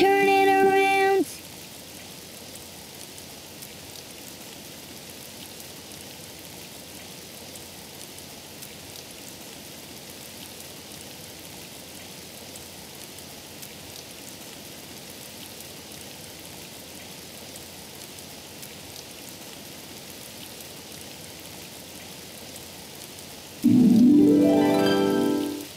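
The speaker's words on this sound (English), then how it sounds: "Oh, it's raining outside." Soft steady rain falling outside in a cartoon, a faint continuous patter held at low level for most of the clip, bracketed by brief louder sounds at the start and end.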